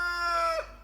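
A rooster crows loudly and close in a chicken coop, one sustained, harmonically rich call that breaks off near its end, with no voices present.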